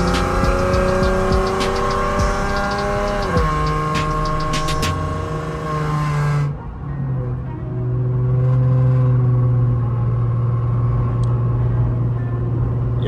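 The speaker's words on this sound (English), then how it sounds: "Y'all let me know how the car sound on the iPhone." A loud Ford Mustang engine drones close by with a strong harmonic rumble, its pitch shifting and dropping twice as it revs and settles.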